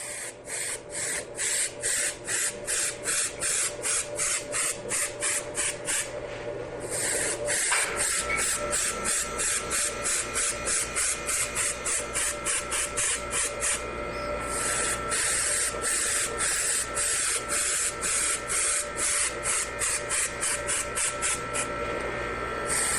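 An airbrush sprays paint in a long run of rapid, regular pulsing bursts, loud and close, with a brief pause partway through and no talking.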